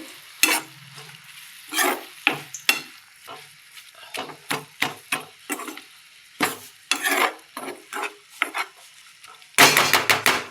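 Chopped greens and salt are stirred in a pan with a utensil, giving close, irregular scraping and clinking strokes with soft sizzling between them, then a louder rush of sizzle at the end; no one speaks.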